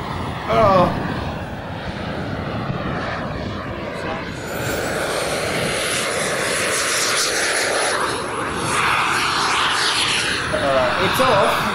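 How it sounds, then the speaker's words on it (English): A Rookie RC model jet from Fiber Plastics, with its engine enclosed in the fuselage, flies past outdoors with a steady loud engine roar and whine. Voices talk over it and the sound rises and falls slightly as the jet moves. "the Rookie's a new development from the Fiber Plastics Company of Germany, now produced in Thailand, and it's got an enclosed engine instead of the one hanging out on the tail"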